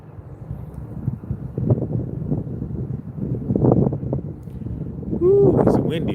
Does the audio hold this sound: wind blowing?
yes